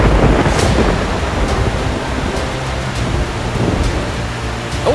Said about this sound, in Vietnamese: Sao bỗng nhiên mưa to vậy nè?